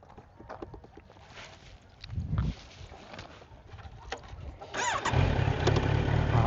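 A Kawasaki Z900 motorcycle engine cranks and catches, then settles into a rough, steady idle that grows louder toward the end, recorded close by with some handling noise.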